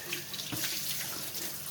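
Water from a running tap rinses the build plate of a Flashforge Guider II 3D printer, a steady close splashing hiss that holds throughout with no talk.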